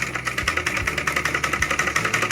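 A sewing machine stitching a high-neck blouse runs in a steady, even mechanical rattle with a rapid needle rhythm, close and continuous, with no voices.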